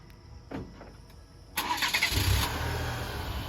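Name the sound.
2023 Chevrolet Colorado Z71 engine remote starting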